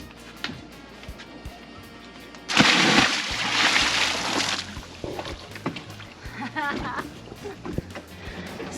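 Water splashes during an evening swim at a sailboat anchorage on a hot evening. A sudden loud burst of splashing lasts about two seconds, then smaller sloshes and drips follow, with voices talking throughout.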